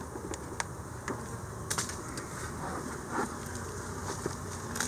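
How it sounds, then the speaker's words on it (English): Honeybees hum in an opened hive, a steady low buzzing drone with scattered faint clicks and light knocks of handling on top, close and fairly quiet. "a lot of humming going on in there"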